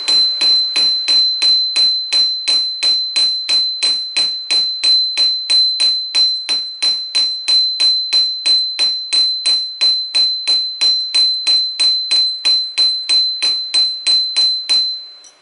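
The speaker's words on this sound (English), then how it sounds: "Let's go ahead and peen that area flat now." Hammer peening a forged steel taper flat on an anvil, a long steady series of about forty sharp ringing metallic strikes at an even rhythm, loud and close, each blow leaving a bright sustained ring.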